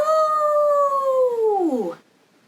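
A person imitates a dog howling with one long, sustained vocal howl that holds steady and then slides downward before cutting off, close and clear with nothing else around it.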